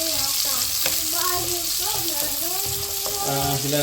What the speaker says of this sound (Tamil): சின்ன வெங்காயம் போட்டு வதங்க விட்டுருக்கோம்